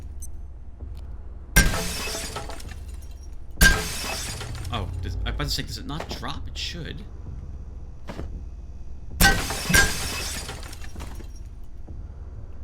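Glass shatters in the video game Abiotic Factor: three sharp, crashing breaks spread across the stretch, each ringing out over a low steady hum while people chat between and over them.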